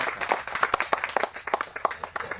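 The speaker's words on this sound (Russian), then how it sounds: "аплодисменты" An audience applauding at a talk on books, apps and online services, a brisk patter of many hands clapping at close to moderate range, uneven and lively throughout.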